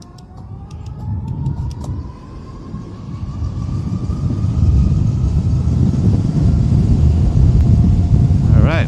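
A dual-motor electric skateboard accelerates from a standstill to 40 mph with a rising motor whine over loud, building wheel and wind rumble that swells steadily and stays strong to the end.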